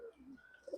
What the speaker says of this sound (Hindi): कितने सारे ये वाइट कबूतर देखे।